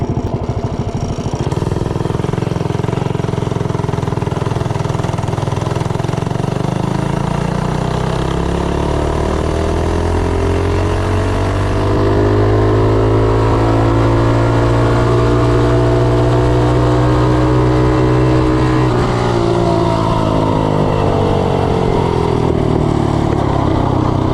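A Predator 212 small engine fitted with a 15-tooth Max-torque clutch revs up loud and close, its pitch climbing steadily for about twenty seconds under acceleration before easing off, a continuous buzzing drone with no talking.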